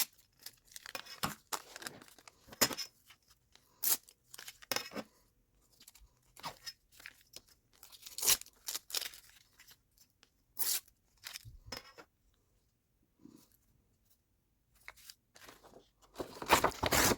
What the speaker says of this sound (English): I am just cutting it on the size of the page